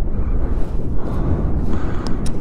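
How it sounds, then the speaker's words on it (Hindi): A head-on wind blast roars over a motorcycle on a mountain ride in Ladakh, a loud, continuous buffeting rush with no break across the whole stretch. "विंड ब्लास्ट आगे की तरफ से आ रहा है"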